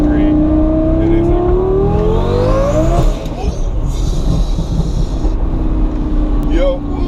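A Mercedes C300 engine revs hard with a rising, aggressive roar that climbs for about three seconds, then settles into a loud, rough rumble. A second short rev comes near the end, all up close and continuous.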